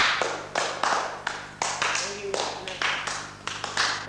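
Audience at a school assembly clapping in a series of sharp, evenly spaced bursts, fairly close and loud, with brief gaps between each burst rather than a continuous roar of applause.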